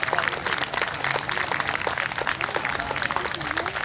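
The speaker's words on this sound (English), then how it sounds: "A round of applause, please stand." A crowd at an outdoor summer jazz concert in Stark Park applauds as people stand, a continuous wash of clapping with scattered voices and cheers rising over it.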